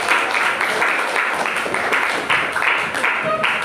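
Classroom applause from a group of students, a sustained dense patter of many hands clapping steadily throughout, fairly loud and close, with voices faintly mixed in.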